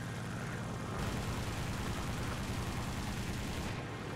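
Aircraft guns in War Thunder fire in a dense rapid salvo, a rattling burst of shots layered over a constant engine drone, loud and sustained throughout.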